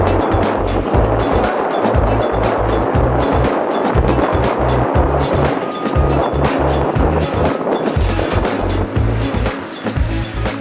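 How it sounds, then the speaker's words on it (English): Wind gusts buffet the microphone outdoors at the Argyle International Airport construction site, a loud, continuous rumbling roar with choppy low thumps throughout and no voices. "You can see there's some bit of wind."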